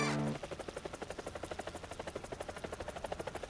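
Helicopter in a tank combat video game, its rotor chopping in a fast, even pulse that stays steady and close for several seconds after a brief opening tone, with no talk over it.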